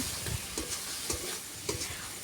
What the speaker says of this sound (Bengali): এবার আমি আবারও এর সাথে ভালো করে মিশিয়ে নিচ্ছি